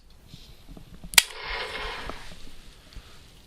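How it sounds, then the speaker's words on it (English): Shotgun fired at a trap shooting target, a single sharp report heard at moderate distance, followed by a brief hissing tail, with faint background noise around it. "So I'm going to call for some targets and start shooting them."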